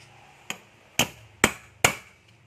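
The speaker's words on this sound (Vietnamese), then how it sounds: "Thì kéo cái đầu này lên rồi bắt đầu lấy búa đóng." A hammer strikes an ST18 concrete nail driver tool four times at an even, unhurried pace, each blow a sharp, close metallic knock in a quiet room.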